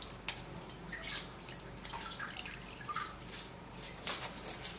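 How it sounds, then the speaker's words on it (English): Cucumber juice drips and trickles through a sieve in a quiet stream of small wet patters, faint and close with no talk. "I'm going to be sieving out the juice"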